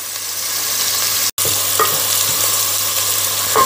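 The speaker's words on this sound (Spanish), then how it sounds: "Cebollita vamos a pocharlo un poquito." Chopped onion sizzles and softens in a hot frying pan for a hake in green sauce dish, a loud steady hiss with occasional stirring scrapes and one brief cut-out.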